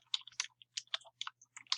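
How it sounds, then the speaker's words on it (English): Typing on a computer keyboard, a quick irregular run of close, crisp key clicks with short pauses between bursts, heard alone over a faint low hum. "you can start typing in whatever terminology it is"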